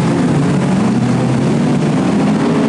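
Race cars accelerating away together at a green flag start, a loud, dense, continuous engine roar that stays steady and saturated throughout, with no audible voices.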